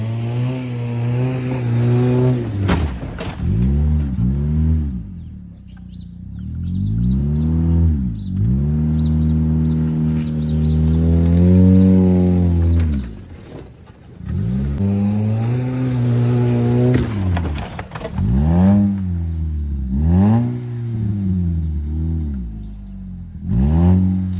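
A Dodge Caliber's engine revs hard again and again while climbing a hill, with loud rising and falling engine harmonics in repeated surges and brief dips between pulls.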